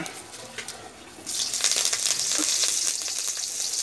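Greens and garlic drop into hot oil and break into a loud, continuous sizzle partway through, following a quieter stretch of kitchen noise.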